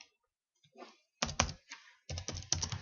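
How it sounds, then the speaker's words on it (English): Bursts of keyboard typing, quick clustered keystrokes in two main runs with a short pause between, close and clear without any talking. "So I'm typing in the bottom right here."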